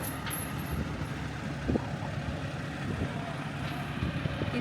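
A heavy truck idles and rumbles as it arrives at a backyard pool build site, a steady low engine drone with faint brief clanks and a short high squeal, mid-distance.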